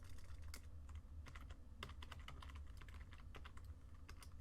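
Code being typed on a computer keyboard, a quiet and irregular run of clicky keystrokes over a low steady background hum, heard close up with no speech.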